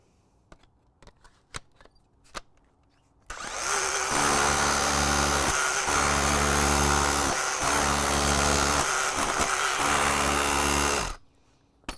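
An SDS+ rotary hammer drilling with a Dewalt DWH304DH dust extractor attached starts after a few faint clicks, then roars loudly and continuously with brief dips in its hammering drone before stopping abruptly.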